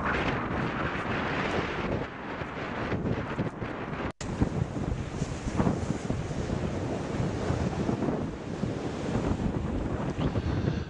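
Surf and wind along the Caithness coast at Scarfskerry Beach, with its small harbour and rocks, roaring steadily throughout with heavy wind buffeting the microphone and one brief dropout partway through.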